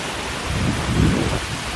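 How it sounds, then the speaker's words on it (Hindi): Heavy rain pours down during flooding in Navsari, Gujarat, a loud steady rush of water with a deep rumbling swell in the middle, no voices. "सूरत के साथ ही गुजरात के नवसारी में भी भयंकर बारिश का कहर जारी है।"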